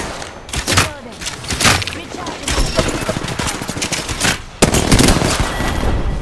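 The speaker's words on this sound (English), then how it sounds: "I'm getting shot at." Gunfire in the shooter Apex Legends during an arena match, with dense, loud bursts of rapid automatic shots and impacts, some close, running continuously with brief gaps.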